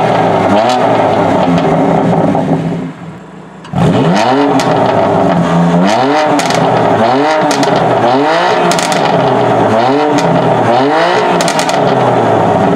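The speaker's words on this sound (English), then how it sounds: "And now we can hear the exhaust from the M3 competition." A BMW F80 M3 Competition exhaust: loud, close engine drone that dips briefly, then a series of about six sharp throttle blips that rise and fall, with crackle.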